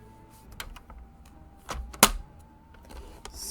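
Paper scored on a scoring board with a sharp stroke for a treat bag, a few faint scrapes and light taps of sliding paper leading to one crisp, loud scoring rasp near the middle, quiet otherwise.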